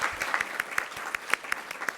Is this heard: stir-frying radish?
no